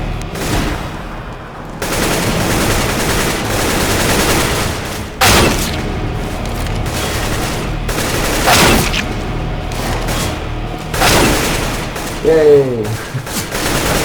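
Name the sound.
gunfire in a shooter video game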